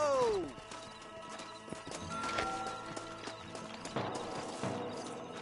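Horses in the Red Dead Redemption video game as riders dismount: hooves clop and a horse snorts near the start, followed by scattered hoof steps, rattling tack and background game noise.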